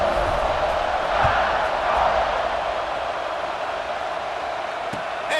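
Broad, steady roar of a large stadium crowd cheering before a kickoff in the EA Sports College Football 26 video game, a continuous wash of voices holding at an even level throughout.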